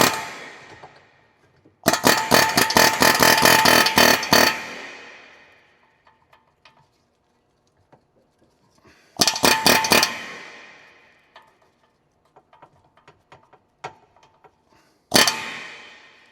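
A chisel bit on an air hammer drives out a lower ball joint on a 2013-2018 Subaru Outback, firing in three loud rapid bursts of metallic hammering with quiet gaps and faint clinks between them.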